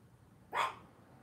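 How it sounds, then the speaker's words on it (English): One short, loud bark from a dog indoors during a home live stream, standing alone over a quiet background. "The damn dog barking is becoming the new signature"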